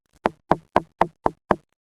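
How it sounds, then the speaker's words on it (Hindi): A door is knocked on at midnight, six sharp, evenly spaced raps about a quarter second apart, close and loud in otherwise silent surroundings. "रानी फुदक चिड़िया का दरवाज़ा कोई खटखटा रहा था"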